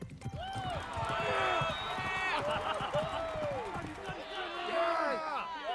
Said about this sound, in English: Several steeds with their riders gallop across the field.